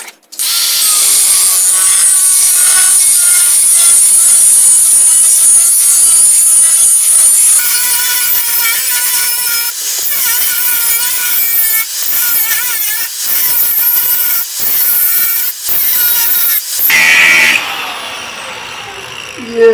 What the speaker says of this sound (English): I'm going to try to cut out a piece and see if we can weld it into place.